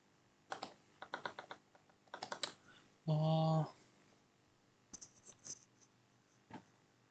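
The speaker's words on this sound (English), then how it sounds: "So we have to type this to pick up TD shell." Bursts of typing on a computer keyboard, quick clustered key clicks in several runs with one loud sustained tonal noise in the middle, recorded fairly close and quiet overall.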